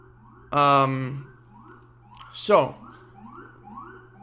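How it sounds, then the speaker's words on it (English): A police siren wails outside in New York City, rising and falling in a few separate sweeps over a low steady hum, fairly close and moderately loud. "sirens outside New York City"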